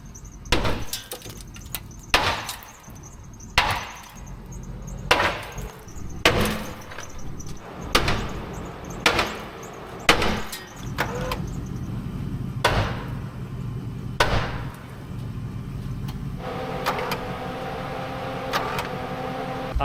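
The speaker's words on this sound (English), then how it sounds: "We probably ought to get a sledge and go smack it." Heavy metallic smacks of a sledgehammer striking a bent metal bar ring out one after another at an uneven pace, loud and close, each strike followed by a short clanging decay.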